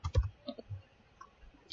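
Brief soft clicks of typing on a computer keyboard, a few quiet keystrokes in an irregular burst, close and faint with no talking.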